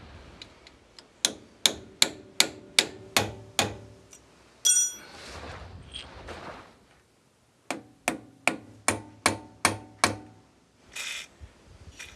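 Sharp metallic hammer strikes ring out on a staked 32mm hub nut of a Land Rover Discovery 2, two loud, close runs of about eight evenly spaced blows separated by a brief pause and shuffling.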